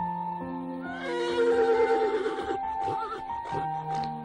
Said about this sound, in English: I hear horses. They don't sound far off.